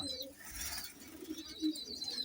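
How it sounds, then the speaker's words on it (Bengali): A Babra pigeon gives a few soft, close coos in quick succession against a quiet background while rain falls outside. "এই যে হাতে যে কবুতরটা দেখতেছেন বাবরা"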